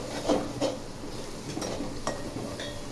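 Ground spices and garam masala get stirred in a pan for a soybean curry, with soft scraping and a few light metallic taps of a spoon over a faint low sizzle.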